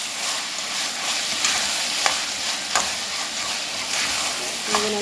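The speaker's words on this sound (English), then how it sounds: "Now we're gonna stir it up." Salt fish with seasoning and tomatoes sizzles in a pot while being stirred, a continuous frying hiss with a few spoon scrapes and clinks against the pot.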